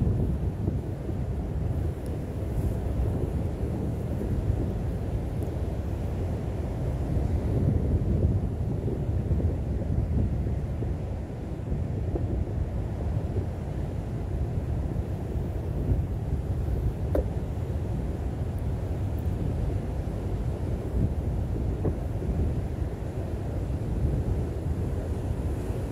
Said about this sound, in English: It's louder here this morning than usual because of the big waves and the wind.